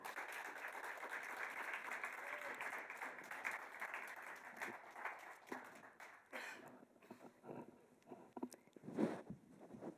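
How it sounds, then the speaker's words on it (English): A conference audience at a forests and communities event claps to welcome a speaker to the stage, a faint, fairly distant patter of applause that thins out toward the end. "Please welcome to the stage with a rapturous round of applause"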